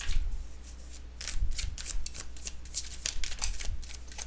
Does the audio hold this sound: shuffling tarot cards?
yes